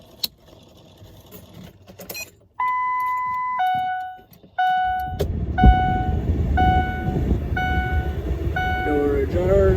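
Repeating electronic door-ajar warning chime in a 2006 Ford F150, steady tonal dings at a regular beat, close and clear, with a low rumble beneath and some handling noise at the start.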